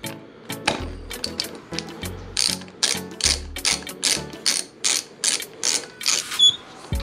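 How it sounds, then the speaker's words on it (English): A ratchet wrench loosens an acorn nut on motorcycle brake and clutch levers, giving loud, close, rhythmic bursts of rapid clicking that repeat steadily. "Switch the ratchet over to loosen."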